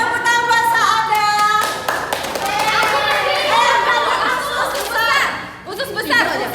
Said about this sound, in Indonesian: oh iya, tepuk tangan